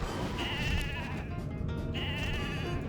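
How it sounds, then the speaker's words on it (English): Two drawn-out sheep bleats from falling sheep in a Minecraft prison-escape map, each a wavering, nasal cry heard over a steady dense game background. "falling sheep from the sky we have to avoid"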